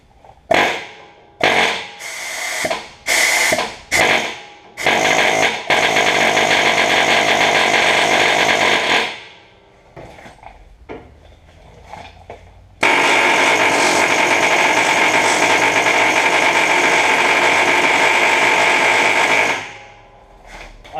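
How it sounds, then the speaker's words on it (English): An air chisel hammers against a greased pin fitted with a grease zerk: several short bursts of loud pneumatic rattling, then two long sustained runs separated by quieter metallic knocks. "use the air chisel against the pin"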